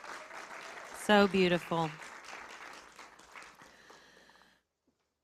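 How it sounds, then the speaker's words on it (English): Applause for a singer at a church coffee house gathering, a crowd clapping steadily under a brief spoken exclamation, then tapering off into silence. "Let's give her another round of applause."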